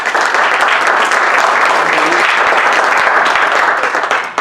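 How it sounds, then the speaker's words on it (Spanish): A seated audience gives loud, steady applause to welcome a doctor taking the stage for a lecture on personality and aging, a dense continuous roar of clapping that tapers slightly at the very end. "Vamos a dar la bienvenida al doctor César Ruiz Parellón con un aplauso, por favor."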